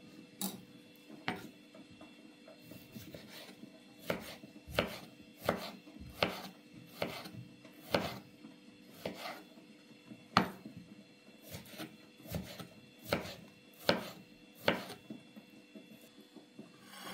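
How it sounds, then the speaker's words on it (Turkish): A knife chops tomatoes steadily on a cutting board, sharp regular knocks repeating about once or twice a second, close and clear in a quiet room. "Bir de domateslerini de doğrayalım."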